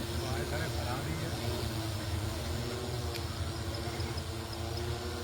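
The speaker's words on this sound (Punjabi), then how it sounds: "ਇਹ ਜਹਾਜ਼ ਉੱਡਦਾ ਪਿਆ" An airplane drones overhead, a continuous broad roar that stays steady throughout, with faint voices mixed into the background.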